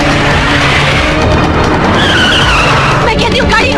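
A car drives fast with its tires skidding and squealing, giving a loud, continuous rushing roar. A voice is heard over the driving.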